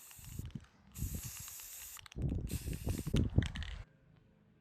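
A spray can sprays paint outdoors in wind, in repeated hissing bursts, each lasting about a second, with short pauses between them and some clattering handling noise underneath.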